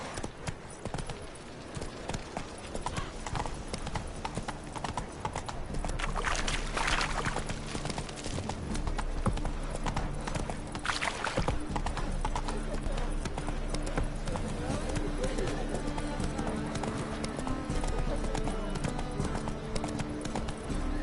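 Roach the horse gallops through The Witcher 3 in a steady, continuous clip-clop of hooves, layered under game music and ambient sound, with a voice speaking briefly over it.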